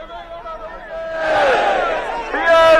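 A crowd gathered for Amit Shah's road show in Ramnagar, Karnataka, cheering and shouting in swelling waves, close and loud, with voices rising into louder cries toward the end.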